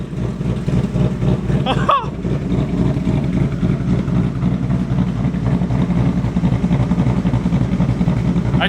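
A 2023 Ford Mustang running on E85 with stock exhaust, a steady low engine drone holding close and loud throughout, with a brief higher squeak partway through.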